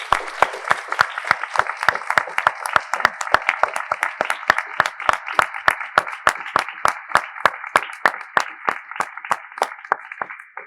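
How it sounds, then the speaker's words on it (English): Applause follows a public service lecture, with one set of crisp, evenly spaced hand claps close by and loud over a softer wash of audience clapping that runs on for several seconds. "A round of applause"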